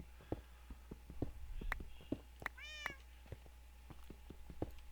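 A Minecraft cat meows once, a short rising-falling call near the middle, amid steady game ambience with scattered soft clicks and footstep-like taps. No one speaks.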